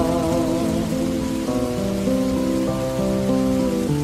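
Steady rain falls outside in Istanbul in autumn, a dense even patter of raindrops, while muffled music with sustained melodic notes plays from another room throughout.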